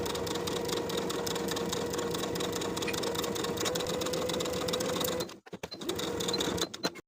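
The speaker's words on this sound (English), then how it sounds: "Sew the placket to the front of the dress from top to bottom with a 1/2 inch seam allowance." A sewing machine runs steadily as it stitches a placket onto the front of a shirtdress. The hum is close and continuous, with a short pause and a stop-start near the end.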